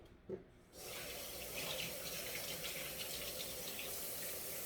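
Tap water runs over celery being washed in a sink, a steady close gush that starts after a brief quiet moment and continues without talking.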